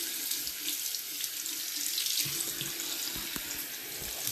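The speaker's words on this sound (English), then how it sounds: "Let's turn on the tap." Water runs from a tap into a sink in a steady, close splashing hiss with no talk, lasting the whole few seconds.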